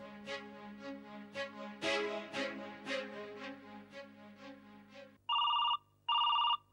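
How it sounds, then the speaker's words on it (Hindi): Music plays for about five seconds, then a telephone rings in two loud electronic bursts, each close and lasting under a second, in a Hindi TV drama. "नीरज का फोन होगा, ऑफिस से कर रहा होगा"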